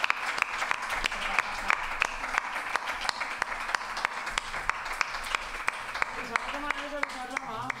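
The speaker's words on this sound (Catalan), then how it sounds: "Aplaudeix fins que arribin a l'escenari." Audience applause at a comedy podcast's awards show, a steady dense wash of clapping throughout with a host's voice cutting in toward the end.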